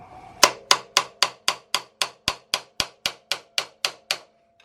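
A hammer strikes a Motion Pro shock spanner punch in a run of about fifteen sharp metallic blows, evenly spaced and close, each ringing briefly before the next.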